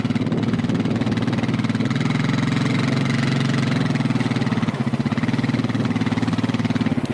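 A Logic weedwiper's engine runs continuously at a steady, loud idle-like throb, close and unbroken throughout with no talking.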